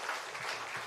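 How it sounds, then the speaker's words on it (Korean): A church congregation at a revival meeting applauds briefly, a soft, fairly distant patter of clapping heard on its own. "우리 감사하는 마음으로 같이 함께 축복의 박수 하겠습니다"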